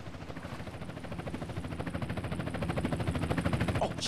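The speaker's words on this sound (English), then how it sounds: "Chopper inbound!" A helicopter approaching in the video game GTA San Andreas, its rotor producing a rapid rhythmic chop that swells louder as it nears.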